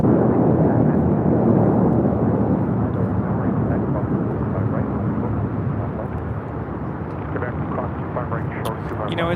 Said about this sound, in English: We have the Singapore Airlines 777-300ER about to touch down, 24 left, coming in from Tokyo Narita, flight 12.